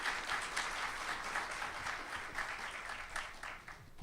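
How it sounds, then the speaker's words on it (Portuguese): An audience applauds at the close of a literary talk, a dense, steady wash of clapping heard from within the hall, fading slightly toward the end. "Palmas para ele."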